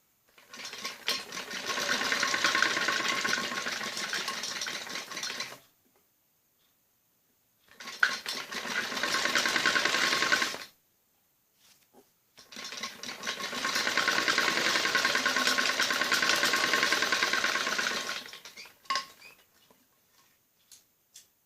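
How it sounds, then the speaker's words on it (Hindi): Electric sewing machine stitching piping onto a kameez neckline, a fast whirring run in three long bursts separated by short pauses, close and alone without speech. "ऐसे सफाई से दोबारा मशीन को चलाना होता है"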